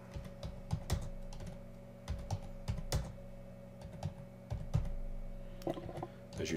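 Clicking keystrokes on a computer keyboard come in quick irregular bursts, close and fairly quiet, over a faint steady hum with no talking.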